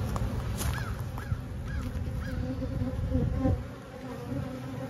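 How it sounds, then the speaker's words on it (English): Honey bees from a hive trail a beekeeper outdoors, a dense, steady buzzing swarm close by and loud, with individual bees droning past and faint birdcalls behind, no talk. "are still bees that came from that first hive that follow me all the way down the track"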